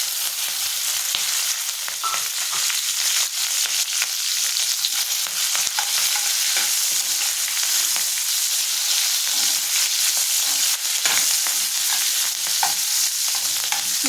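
Mustard seeds, cumin, dried red chilies and onions fry in hot oil with a constant loud sizzle and crackle. Occasional stirring scrapes sound close and unbroken throughout.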